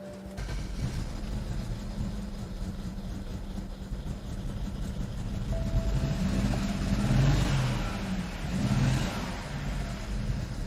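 A BMW E61 535i wagon, bought at auction, runs roughly at close range with a steady engine drone. As the gas is pumped, the engine swells twice without ever building into a clean rev.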